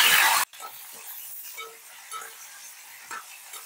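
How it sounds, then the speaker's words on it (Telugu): Ash gourd pieces dropped into hot oil, a brief loud burst of frying at the start that settles into a quiet crackling sizzle with occasional small pops. "ఇప్పుడు ఆనపకాయ ముక్కలు కూడా వేసేసుకుందాం."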